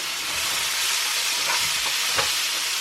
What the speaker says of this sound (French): Je fais des beignets de citrouille avec des oignons et une toute petite courgette qu'il fallait passer. Et je suis en train de les faire cuire